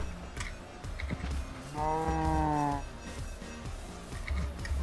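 A cow moos once in the Minecraft video game, a single drawn-out tonal low call lasting about a second, set among faint footsteps and game ambience.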